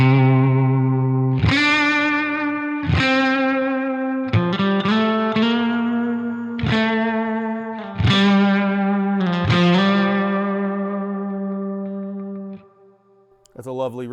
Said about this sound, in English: That's a lovely reverb sound.